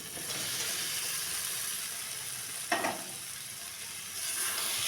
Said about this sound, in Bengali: মশলা ভাজা হয়ে গেলে মশলা থেকে তেল ছাড়তে শুরু করলে দেব সেদ্ধ করে রাখা মুখি